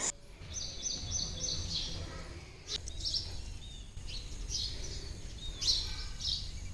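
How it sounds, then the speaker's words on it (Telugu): Sparrows chirp in quick, scattered bursts in the morning over a soft outdoor background near a farm field, the calls fairly faint and repeated throughout. "మార్నింగ్ పిచ్చుకల సౌండ్ చూసిరు కదా ఎంత ప్రశాంతంగా ఉంటుందండి వాటిని వింటే"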